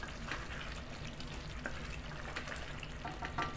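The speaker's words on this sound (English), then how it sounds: "Let's open our sauce. So it's here. It's boiling. I'll just stir it again." Lasagna sauce boils in a pot while being stirred, a close, continuous bubbling and sizzling hiss with soft scraping of the spoon, fairly quiet and steady for a few seconds.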